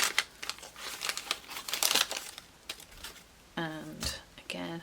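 Packing paper crumpled and crinkled by hand while sorting collage materials, a busy run of papery rustles and crackles, with a few brief voiced sounds near the end.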